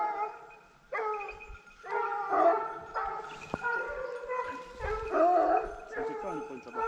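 Pack of hunting dogs barking, yipping and howling during a hunt in the Corrèze countryside, a continuous overlapping chorus of voices near and far, with some people talking underneath.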